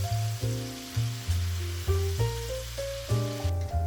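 Battered beef strips sizzle in hot oil with a continuous bubbling crackle, close and steady beneath background music, with no talking.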